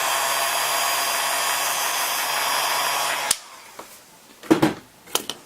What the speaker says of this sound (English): If you have a heat gun or a blow dryer, you don't have to do this.